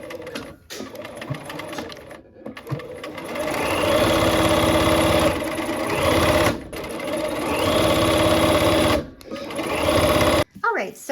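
A sewing machine stitches quilt block seams in steady runs of rapid needle chatter, stopping briefly a few times and starting again, close and loud, with someone talking over it throughout.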